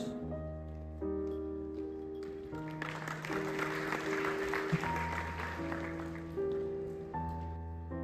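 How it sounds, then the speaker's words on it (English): Audience applause at a college farewell ceremony rises under sustained background music, a moderate crowd clapping that swells in the middle and then eases while the music continues. "A big round of applause."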